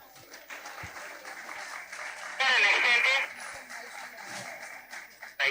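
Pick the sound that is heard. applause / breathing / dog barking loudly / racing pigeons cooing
applause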